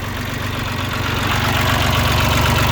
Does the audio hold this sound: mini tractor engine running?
yes